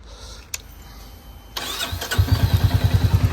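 A click, then a Royal Enfield Meteor 350 motorcycle engine, slightly knocky, cranks and catches, settling into a loud, steady thumping idle close by.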